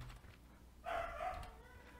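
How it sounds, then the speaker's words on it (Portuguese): A single short dog bark rings out at middle distance, brief and fairly clear against a quiet background with faint low rumble. "o cachorro começou a latir"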